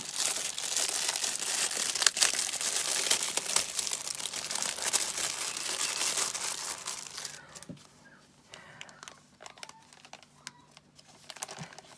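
A package holding a card is unwrapped by hand, with a dense, continuous crinkling and rustling of paper close up for several seconds, then quieter scattered crackles and soft handling noises.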